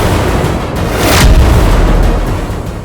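A roof collapses with a heavy crashing boom over a dense, rumbling roar, then a lingering rush of debris-like noise that slowly settles.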